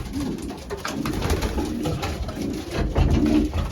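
Racing pigeons cooing close by in their loft, with soft repeated throaty coos over a constant low background hum.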